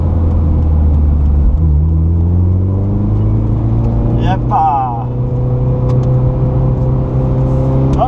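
A Mazda MX-5 NC roadster with a naturally aspirated engine drones steadily under load while driving, its pitch climbing gradually, with someone talking and exclaiming over it.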